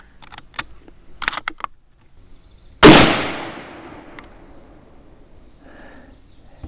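A single rifle shot from a 35 Remington rimmed load test, a sharp loud crack with a decaying tail, preceded by clicks and handling noises of the gun.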